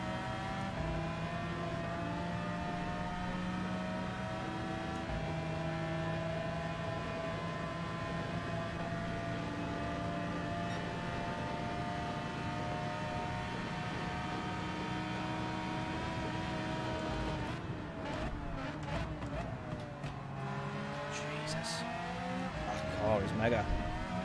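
Suzuki race car engine in Gran Turismo 7, a steady loud drone with shifting harmonic lines as it runs down the straight, rising again near the end, with talk over it.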